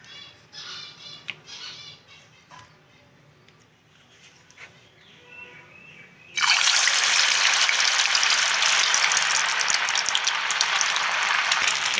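Rice vada drops into hot oil and bursts into a loud, continuous bubbling sizzle that starts suddenly and holds steady, after quieter scattered kitchen clinks.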